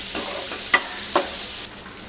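Finely ground corn stirred into a browned onion mixture with red chili powder, turmeric and chaat masala, frying in a pan; a steady, close sizzle with a few scraping spoon strokes, then the hiss softens slightly.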